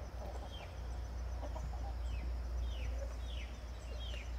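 Hens cluck repeatedly in short rising calls over a steady low hum, several birds close by with no talking.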